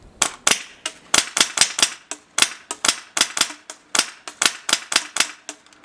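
An airsoft gun fitted with a stick magazine fires semi-automatic, giving a steady string of sharp, close, snappy shots in quick irregular succession, about twenty in all, with no talking.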